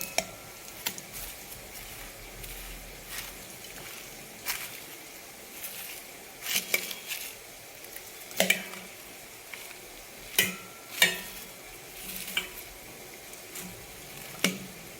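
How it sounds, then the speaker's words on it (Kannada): Fried onions stirred into sizzling chicken dum biryani masala in a pan, a steady frying hiss broken by repeated sharp scrapes and clicks of the spoon at close range, with no talking. "ಈಗ ಇದಕ್ಕೆ ಫ್ರೈ ಮಾಡಿರುವಂಥ ಈರುಳ್ಳಿನ ಹಾಕ್ಕೊಳ್ತಾ ಇದ್ದೀನಿ. ಇದನ್ನು ಮಿಕ್ಸ್ ಮಾಡ್ಕೊಳ್ತೀನಿ."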